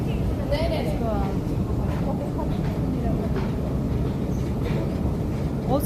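A Stockholm metro train runs with a constant low rumble and rattling, a squealing tone rising briefly near the start, while people talk over it.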